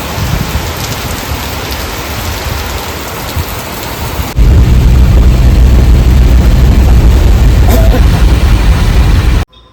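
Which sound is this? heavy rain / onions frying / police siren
heavy rain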